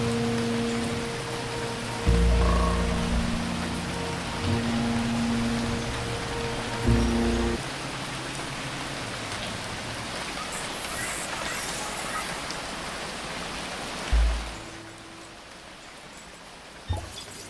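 Rain falls steadily in the video game Phoning Home, dropping from small clouds on an alien planet, a constant hiss under low tonal hums and occasional deep thuds.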